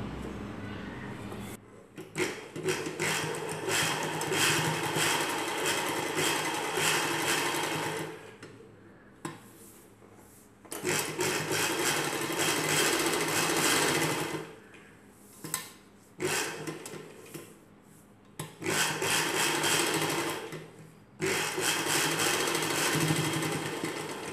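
A sewing machine stitches three sides of a night dress piece, running in long, steady whirring bursts with brief pauses between seams, close and fairly quiet, with no voices.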